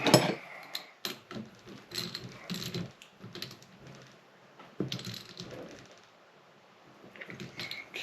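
Nut being tightened on a 1930 Ford Model A steering box, a series of quiet close metallic clicks and ratcheting taps in irregular bursts, no voices.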